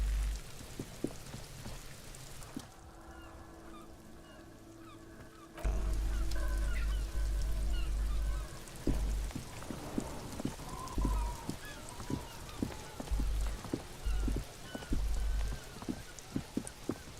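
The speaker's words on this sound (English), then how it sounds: "It's raining again." Steady rain patters in a garden, a soft continuous wash dotted with sharper drops, with a louder burst of rain partway through and occasional honking fowl in the background.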